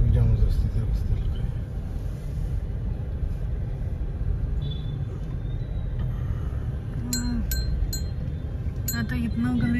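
Congested road traffic on a jammed town road, continuous low engine rumble from nearby cars and buses, with bright bell-like clinks near the end and voices talking over the din.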